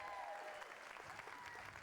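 Comedy club audience applauding, steady dense clapping heard fairly faint and distant, continuous for a short stretch.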